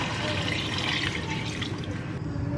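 Rice wash water poured into a cooking pot for arroz caldo, a steady soft splashing and trickling of liquid at close range, with faint kitchen background noise.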